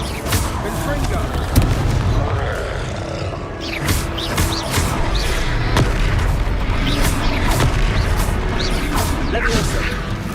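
Confringo fire spell blasts in the Hogwarts Legacy video game, repeated booming impacts and crackling bursts layered over dense combat noise and creature roars, with shouted voices in the fight.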